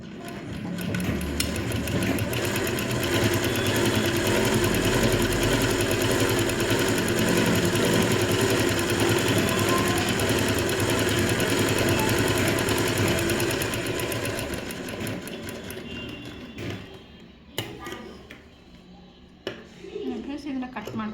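Sewing machine stitching a plain blouse, a rapid steady whirring hum running for about fifteen seconds before stopping, followed by quieter handling noises.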